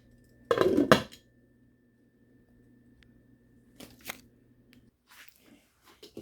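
A spoon stirs beef stew in a pot, giving a loud burst of metallic scraping and clinking, then quieter intermittent clinks and scrapes separated by near silence.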